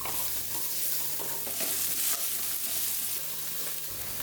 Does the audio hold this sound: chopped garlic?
yes